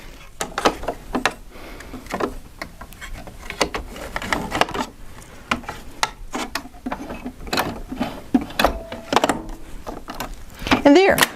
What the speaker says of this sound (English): The cover stitch table comes with the machine and it just snaps on.